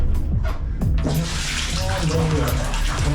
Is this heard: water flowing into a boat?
yes